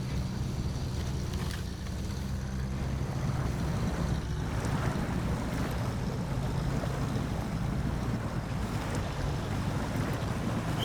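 Truck engine in the off-road driving game Snowrunner rumbles steadily with a low droning roar throughout, loud and continuous with a broad noisy wash over it and no talking.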